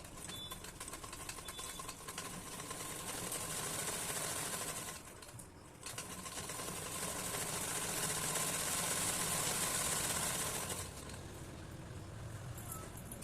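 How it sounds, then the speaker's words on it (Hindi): A sewing machine hums steadily while stitching a blouse sleeve, with a short dip and pause partway through before the continuous motor whir picks back up. "इस तरह से हम पूरी आस्तीन को मिला के सिलाई लगा लेते हैं।"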